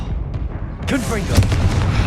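Confringo explosive spell cast in the Hogwarts Legacy video game, a sudden burst about a second in followed by crackling, rumbling blast tones, with a voice talking alongside the effect.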